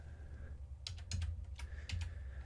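A computer keyboard is typed on in a few quick, close clusters of clicky keystrokes over a low background hum, with no voices.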